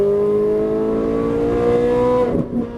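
A Ferrari 458 Italia engine revs hard under acceleration on a racetrack, its rising tone loud and close for most of the run before the pitch drops suddenly near the end, as on a shift or lift of the throttle.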